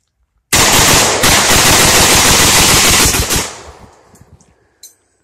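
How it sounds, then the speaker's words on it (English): Rapid automatic gunfire from a modified 1949 SKS rifle at outdoor target practice, a loud continuous burst of about three seconds that stops abruptly and trails off into echoing decay. "I got my 1949 SKS modded out."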